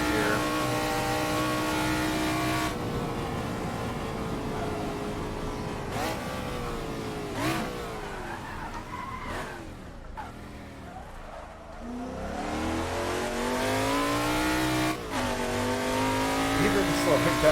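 Shelby Daytona engine in a racing game on the Isle of Man TT course, revving and climbing through the gears with pitch sweeps, gear-change dips and some tire noise, while someone talks over it.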